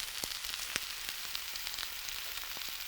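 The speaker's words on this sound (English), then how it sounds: "You hear that? It's a nice little sizzle." Food sizzles on an outdoor cooker with a faint, close crackle dotted with small irregular pops, heard alone at low volume.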